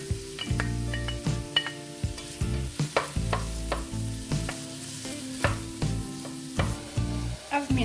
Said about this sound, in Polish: Na rozgrzany olej wrzucam cebulkę i lekko ją zeszklę.